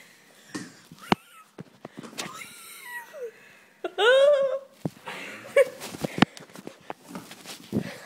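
A cat gives a short meowing cry midway, set among scattered bumps, rustles and brief vocal noises from people close by.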